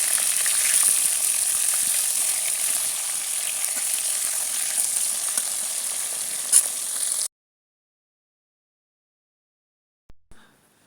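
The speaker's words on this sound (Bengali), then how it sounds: "তেল গরম হয়ে গেছে, এখন মাছ ভেজে নেব।" Fish fries in hot oil with a dense, even sizzle held close for several seconds, one sharp clack partway through, then sudden silence broken by two faint knocks.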